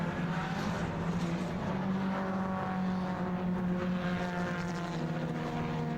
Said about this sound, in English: There goes the number 41, Jonathan Lewis, his green and white machine, sliding his way through